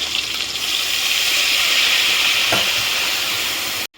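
A small splash of water hits a hot pan of spiced hilsa curry base with Kashmiri chilli powder, setting off a loud, steady sizzle and hiss that holds evenly before cutting off abruptly.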